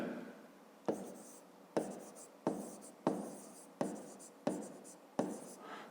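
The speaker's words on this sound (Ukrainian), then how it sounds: "Так і записуємо." Pen writing numbers by hand on paper, a series of about seven short scratchy strokes at a steady rhythm, close and clear.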